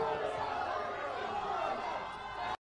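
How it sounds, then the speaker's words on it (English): Protesters in a disrespectful crowd shout and chant continuously at a political speech, a dense, loud roar of voices that cuts off abruptly at the end. "This crowd is not being respectful."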